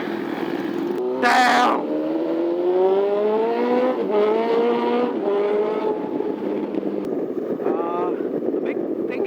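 Yamaha MT-09 motorcycle engine, ridden on roads in Pune, droning steadily close by, its pitch rising gradually under a steady rush of wind, with brief talk from the rider.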